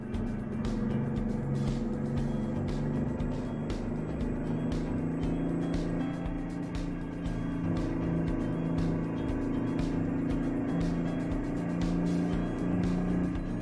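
A Mack Type R semi truck's engine in American Truck Simulator drones steadily with a low, continuous hum throughout, no talking over it.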